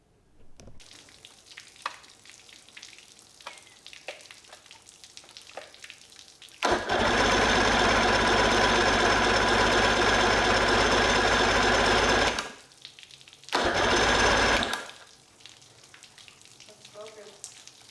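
The starter of a 1976 Evinrude 115hp outboard motor cranks in a loud whirring burst of about six seconds, then a shorter second burst, with quiet handling noises around them.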